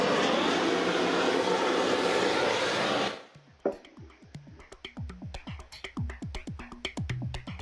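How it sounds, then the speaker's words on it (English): A gas burner roars loudly and steadily up close while singeing a wild pig, then cuts out, leaving a run of sharp crackles and pops from the scorched hide. "That's what a gas burner will do."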